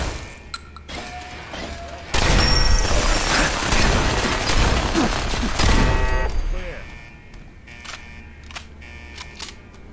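Turret gunfire in Fallout 4 Far Harbor, a loud continuous burst of rapid shots lasting several seconds, framed by quieter mechanical clicks and a brief voice before and after.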